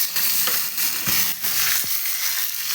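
Broken dried red chillies and curry leaves crackle and sizzle in hot oil for a lemon curry, a continuous close frying hiss with small pops and stirring scrapes, no voices.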